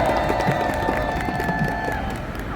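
A crowd of citizens at an outdoor rally in Daejeon, clapping and cheering in a busy, continuous wash of hands and voices, fairly loud and close.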